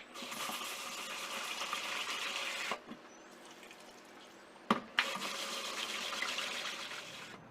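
Mung beans being rinsed in water until it runs clear, a steady close rush of running water that pauses briefly twice before resuming.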